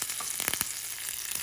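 Mustard seeds and curry leaves fry in hot oil for a Kerala green mango curry, a steady close crackling sizzle with scattered popping.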